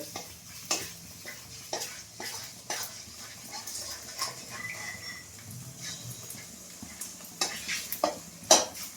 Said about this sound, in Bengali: এইদিকে আমার ডিমটা দেখেছেন, আমি একেবারে এটাকে করে নিচ্ছি ঝুড়ো ঝুড়ো ঝুড়ো ঝুড়ো করে